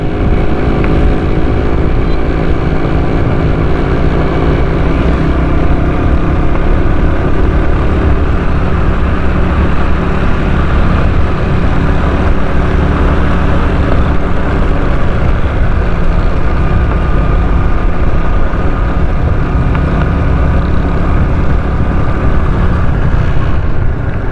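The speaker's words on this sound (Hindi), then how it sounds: "ये देखो, सारे मोटरसाइकिल वाले आ रहे जा रहे हैं।" Steady traffic roars continuously on a big expressway, with motorcycles streaming past, loud and close, their engine drones blending into one unbroken wash of passing vehicles.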